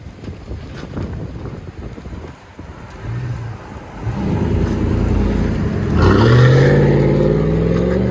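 Rumbling exhaust of a 2001 Chevy Silverado with a 5.3L V8 and SLP Loudmouth dual exhaust exiting straight out the back through 4-inch tips, swelling louder midway as the engine revs up, with wind buffeting the microphone.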